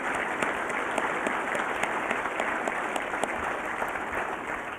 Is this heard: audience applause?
yes